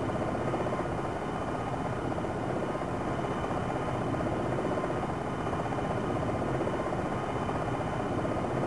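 A helicopter side-slipping at a low hover in the Jane's Longbow 2 combat flight game gives a steady, loud rotor and engine roar that stays even and unbroken throughout, with no talk.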